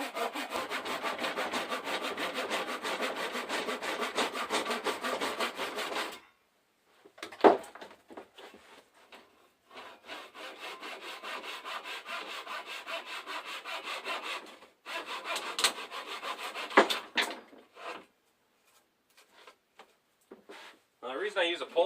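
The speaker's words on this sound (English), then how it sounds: "The reason I use a pole saw on that, and it's a fine-tooth pole saw" A fine-tooth pole saw rasps steadily through wood in long, rhythmic strokes, pausing briefly twice before resuming, close and fairly quiet.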